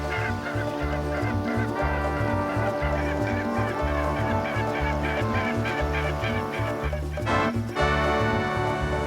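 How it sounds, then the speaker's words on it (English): Whooper swans give loud, repeated honking calls in a dense chorus, bugling notes overlapping in a steady rhythm close by, with a brief burst of added noise near the end. "Whoop it up for the Hooper Swans."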